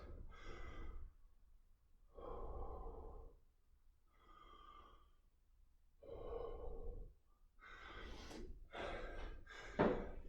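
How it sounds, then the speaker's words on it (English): Deep, heavy breaths during a rest between kettlebell plank circuit sets come in slow repeated cycles of long inhales and exhales. They are close and loud, with a sharper gasping snort near the end and no talking. "We're taking deep breaths."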